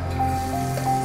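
Ginger and garlic sizzling in hot oil in a wok, a close, steady fizzing crackle alongside a low constant hum in the background.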